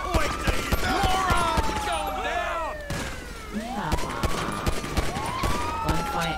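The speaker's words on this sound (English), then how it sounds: "Wait, is he shooting at me?" Gunfire and police sirens from the police-mod game GTA V LSPDFR, set around Sandy Shores, crackling in bursts through a dense, busy scene while someone talks excitedly over it.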